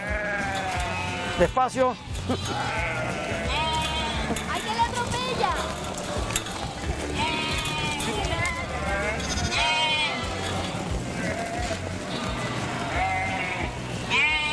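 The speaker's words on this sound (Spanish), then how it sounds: "Felices que están sus ovejas aquí" A flock of sheep on a farm bleats over and over, many overlapping calls near and far, mixed with people talking throughout.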